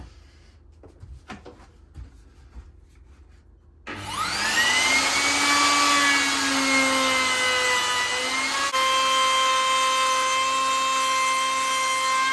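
A power router starts up abruptly and runs steadily as it routes out a 7 centimetre gap in a curved plywood galley on a narrowboat, loud and close after a few faint knocks.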